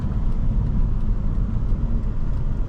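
A 2007 Lexus SC 430 engine pulls steadily while driving, a smooth low rumble with road noise that builds gradually without any sharp surge, heard from inside the car.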